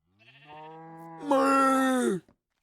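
A video-game sheep bleats once, clear and isolated. The long, wavering cry starts low and then jumps to a louder, higher, nasal pitch before cutting off.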